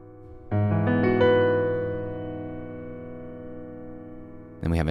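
A piano chord from a song is struck after a short rolled lead-in of notes and rings out, slowly fading. A brief sound starts near the end.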